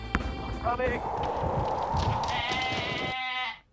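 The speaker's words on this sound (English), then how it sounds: "On our way to Namtso Lake, you can see sheep that aren't afraid of cars at all." Sheep bleat repeatedly at close range along the roadside on the way to Namtso Lake, with loud overlapping calls, a steady outdoor wash beneath them and a voice speaking over part of it.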